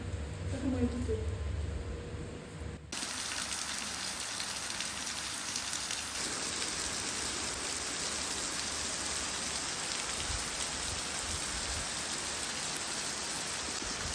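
Light drizzle falls in Sandakan, Borneo, a soft, even hiss of fine rain that continues steadily after a brief muffled opening with faint voices.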